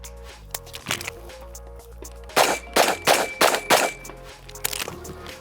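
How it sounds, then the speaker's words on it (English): Gunshots are fired by a shooter on the move, a few scattered reports followed by a quick run of about six sharp shots, fairly close. "I love shooting on the move."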